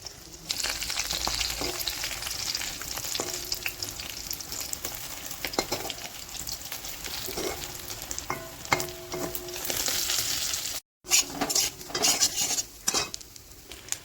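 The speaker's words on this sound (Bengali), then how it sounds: "এবার চামচি করে করে ডিমগুলো ভেজে নেবো" Spoonfuls of beaten egg fry in shallow oil in a wok over low gas, a steady close sizzle broken by repeated metal spoon scrapes and clinks against the pan, with a brief gap near the end.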